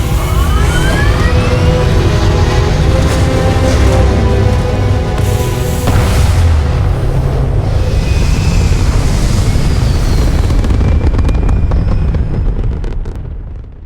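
Spaceship thrusters fire in the Starfield video game as a loud, sustained, roaring rumble with shifting whooshes and tonal sweeps. The roar holds steady for over ten seconds, then cuts off abruptly.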